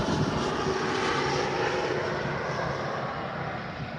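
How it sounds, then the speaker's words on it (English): An airplane passes low on final approach near an airport, a loud, steady broadband engine roar that holds throughout and fades only slightly toward the end, with no talk. "You see some cool fucking planes, but sometimes it's loud."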